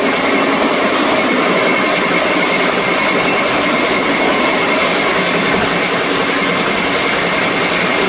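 Steady, loud rumble of the Sealdah–New Alipurduar Padatik Express running on its tracks, heard from inside the train, with a continuous rolling roar and faint rattling throughout, no voices.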